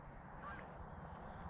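Geese honking faintly in the distance during a goose hunt in New York, a few brief calls rising over steady low outdoor rumble with no talking.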